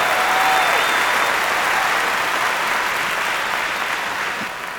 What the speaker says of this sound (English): please stand up, face your families, your friends, your spouses, and give them a round of applause